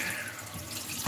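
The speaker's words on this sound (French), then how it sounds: "Voilà, on rince, vite fait" Tap water running over something being rinsed in a kitchen sink, a brief steady splashing wash close to the microphone.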